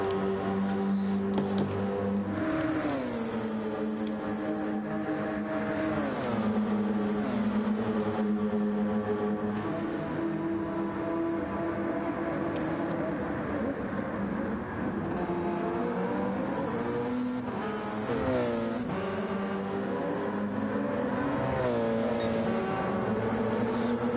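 Race cars pass by one after another at Spa in an endurance racing video game, their engines droning continuously with rising and falling pitch sweeps as they go by.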